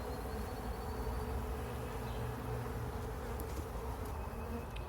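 Honey bees buzz steadily and densely around their comb at close range, a continuous droning hum with no pauses and no voices.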